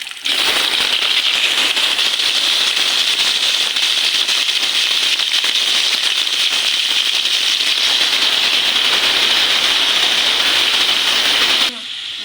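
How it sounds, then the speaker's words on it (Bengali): Potatoes frying in hot oil for an egg and new-potato curry, a loud, steady, dense crackling sizzle that holds without a break for nearly the whole stretch and then drops away abruptly near the end. "আলুটা ভেজে নিচ্ছি আমি।"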